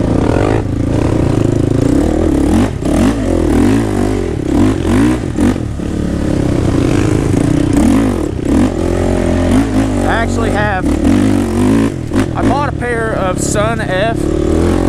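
A 2014 Honda 450er and a 2007 Honda 400ex ATV ride outdoors, with loud engines rising and falling through repeated revs and accelerations, plus occasional clattering from the machines.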